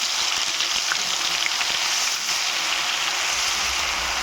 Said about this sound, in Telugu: ఖచ్చితంగా ఫ్రై అవ్వాలి ఇది అల్లం వెల్లుల్లి పేస్ట్.